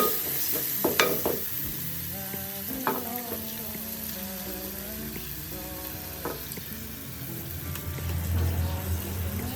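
Chicken frying in a pan for biryani with spices, stirred with a utensil: a continuous close sizzle with repeated scraping and clinking strokes against the pan.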